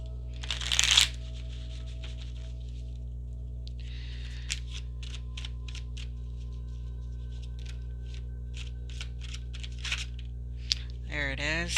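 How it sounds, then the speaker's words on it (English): Tarot cards being shuffled during a reading, a quick burst of riffling followed by a run of soft, evenly spaced card flicks, close and quiet over a steady hum, with a voice at the very end. "Let's pull some cards from the universe to close it off."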